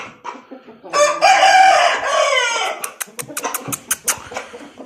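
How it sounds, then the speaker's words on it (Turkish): A chicken calls loudly and close by in one long, drawn-out crowing cry, followed by a string of short, sharp clucks. "tavuk çağırıyor arkadaşlar"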